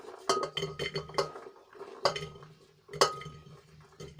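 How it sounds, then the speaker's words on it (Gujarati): Vegetables dropped into a pressure cooker, making a few distinct metallic clanks and knocks with short pauses between them. "અહીંયા આપણે બધા શાકભાજી કુકરમાં નાખી દઈશું"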